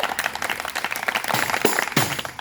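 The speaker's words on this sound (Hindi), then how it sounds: "जरा एक बार जोरदार ताली तो बजाना अरे और जोर से" A street-play audience claps for the performers in a dense, lively burst of applause that carries on unbroken for a couple of seconds, close and fairly loud.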